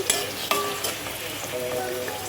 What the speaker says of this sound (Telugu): రెండు పచ్చిమిర్చి కూడా వేసి ఉల్లిపాయలు అనేది బ్రౌన్ కలర్లో వచ్చే వరకు ఫ్రై చేసుకున్నానండి